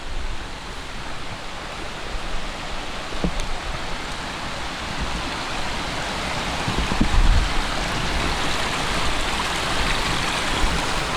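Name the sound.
waterfall on the river Ribble at a stone crossing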